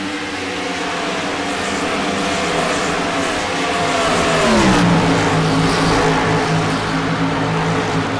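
Nostalgia series race cars at Chicagoland run side by side, a loud sustained engine roar with a pitch sweep as cars pass close by, no talk.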